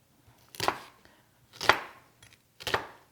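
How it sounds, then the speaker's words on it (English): A knife chops onions on a board in three separate bursts of quick, close cuts spaced about a second apart, with quiet pauses between and no talking. "we are gonna start chopping"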